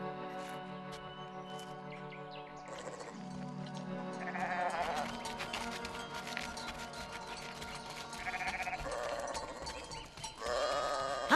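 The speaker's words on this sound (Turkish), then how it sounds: "Hah, koyunlar da geliyor." A flock of sheep bleats repeatedly at a moderate distance, several overlapping calls rising and falling over a steady musical backdrop, with no speech.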